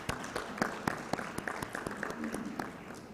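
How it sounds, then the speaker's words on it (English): Sparse audience clapping at a rheumatology conference, a few distinct claps in an irregular rhythm, fairly faint. "may I please request you to clap for them for a few seconds"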